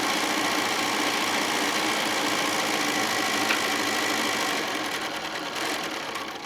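A sewing machine runs steadily and loudly, stitching together two fabric folds of a peacock tote bag panel, with a continuous close mechanical whir that eases slightly near the end.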